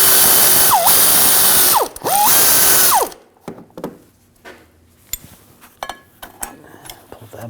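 A ratchet spins quickly, clicking loudly and close as a bolt comes off a 2007-2013 BMW 328i 3.0L L6 rear driveshaft coupler, followed by quieter scattered metallic taps and clinks of the bolt being handled.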